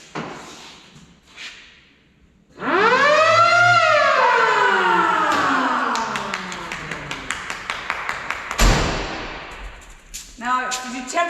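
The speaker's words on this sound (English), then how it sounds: "You did not fix my siren." The siren on an off-road wrecker truck winds up into a loud wailing tone that slowly falls away, followed by a series of sharp clicks and a brief rise and fade at the end.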